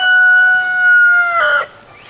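A rooster crows loudly and close by, one long drawn-out call that breaks off near the end.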